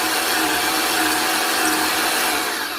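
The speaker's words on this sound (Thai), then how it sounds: "นี่ก็คือเจาะ" A power drill bores holes to insert steel rebar for a beam during concrete floor work at a temple, making a loud, steady, continuous whirring roar up close with no talking.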